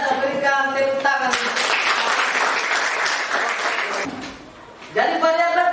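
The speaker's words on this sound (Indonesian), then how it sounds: "berikan tepuk tangan" Classroom applause during a high school biology lesson, a burst of many students clapping together for about three seconds, framed by a teacher talking before and after.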